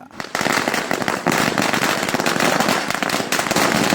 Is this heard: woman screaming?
no